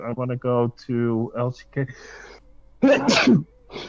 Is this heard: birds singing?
no